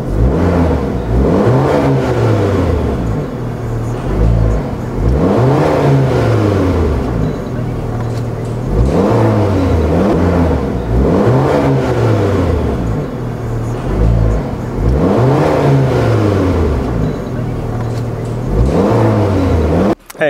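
An Alfa Romeo Giulietta 1.4 turbo petrol engine with a homologated sports exhaust is revved repeatedly, each rev climbing and falling in a steady rhythm, loud and close without pause.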